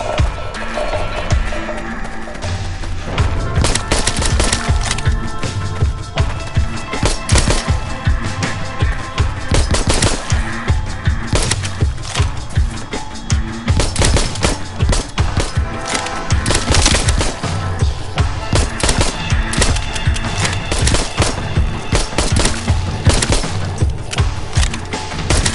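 Rapid, loud, sustained gunfire from the zombie shooter video game Arizona Sunshine, dense bursts of shots continuing throughout with little pause.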